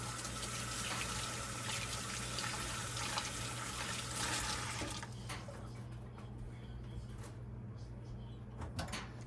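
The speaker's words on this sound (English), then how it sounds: "I'm just going to wash this salt off my hands" A kitchen tap runs steadily as salt is washed off hands, a close, continuous rush of water that stops about halfway through, leaving quieter clinks and room noise.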